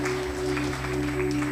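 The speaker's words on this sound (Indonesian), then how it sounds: "Kasih tepuk tangan buat Tuhan" A church congregation claps for God during a sermon, a brief burst of applause over sustained, steady musical tones.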